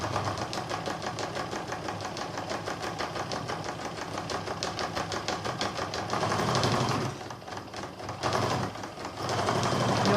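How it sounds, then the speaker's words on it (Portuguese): A sewing machine stitches tulle layered over fabric in curves and straight lines, giving a close, steady, rapid mechanical whir that briefly dips and pauses near the end, with no talking. "Então eu faço curvas, eu costuro reto."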